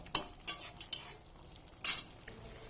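Boiled drumsticks and pointed gourd being stirred in a pan, a few quick metallic spatula scrapes and taps over a faint sizzle, close and intermittent across a short stretch.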